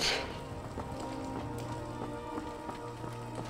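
Rain pattering steadily in the game Skyrim, a quiet even wash with light clip-clop-like footfalls and no talking.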